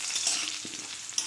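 Potatoes frying in oil with turmeric and chili powder, giving a steady close sizzle with a few soft stirring scrapes, no talking.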